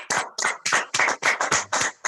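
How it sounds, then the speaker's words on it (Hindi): An audience claps together in about nine quick, loud bursts of applause, each separated by brief gaps. "एक बार ताली बजाना सर।"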